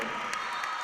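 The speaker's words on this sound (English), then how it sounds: "the crowd is into it as they have been all night, letting them hear the support from Bruins country" Spectators cheering steadily at a North Dakota girls' high school basketball game between West Fargo and Fargo South, a dense, continuous crowd roar with a few sharper shouts rising above it.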